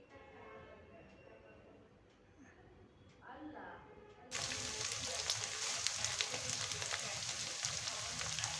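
Onion and garlic frying with curry leaves in a heavy-bottomed pot for a silver fish gravy, faint at first, then a loud, steady broadband sizzle that takes over and keeps going; a voice talks briefly in the quieter opening.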